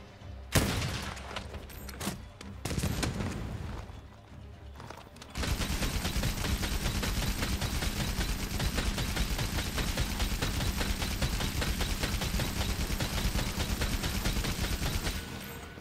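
A Wyvern Heart heavy bowgun in Monster Hunter: World lets off a few scattered shots, then settles into a loud, continuous stream of rapid automatic fire that runs unbroken to the end.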